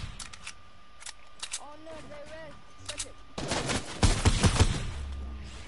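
Sniper rifle fire in an online shooter, a loud crack and burst of shots arriving in the second half after quieter game sounds, with people talking over the early part.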